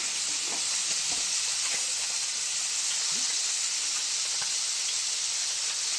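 Food frying in a pan gives off a steady, even sizzling hiss that runs the whole time at moderate loudness, with no one talking.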